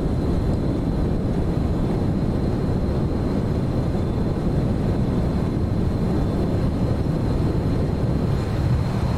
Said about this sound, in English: good old TF-30 engine.